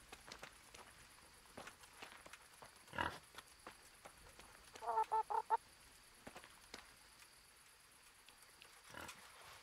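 Chickens cluck in short, quiet bursts inside the medieval game Kingdom Come: Deliverance, with a brief call near the middle and another soon after, over faint ambient noise and soft footsteps.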